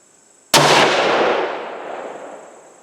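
A single sharp rifle shot cracks out at close range and rings away over about two seconds, fired at a target using a 42.0-grain Ramshot TAC powder load in a warm barrel.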